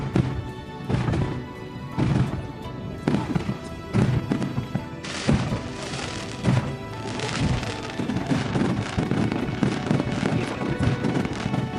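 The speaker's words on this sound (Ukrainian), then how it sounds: "запускають феєрверки" Fireworks at a Chinese street festival, bursting in a rapid irregular string of loud cracks and booms that keep overlapping across the whole stretch.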